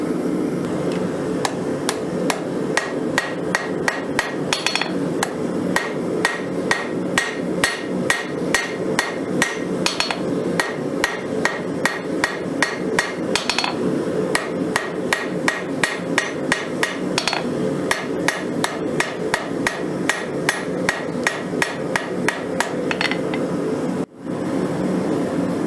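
Hot scrap rebar hammered on an anvil while forging a snail, a loud, close series of sharp metallic strikes in a fast, steady rhythm with a few brief pauses, alone and without talk.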